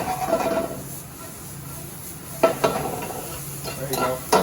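Peppers sizzle in a hot pan that is shifted around on the burner, a soft continuous fry broken by a few scraping, clattering bursts of the pan moving.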